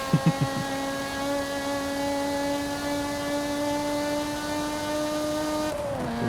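A Lotus Emira's Toyota V6 engine in Forza Horizon 5 holds a steady, smooth high-revving whine after a few quick revs at the start, then drops off abruptly near the end.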